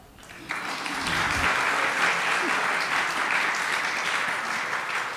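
A lecture audience breaks into applause, the clapping rising quickly after a brief moment of talk and holding as a steady, fairly loud wash of hands.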